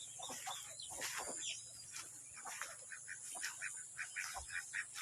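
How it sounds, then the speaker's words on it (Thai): Ducks on a stream beside a tea plantation give a run of short quacks and clucks over flowing water, with other birdsong mixed in, fairly close and moderately loud. "ในน้ำมีเป็ดด้วยนะครับ"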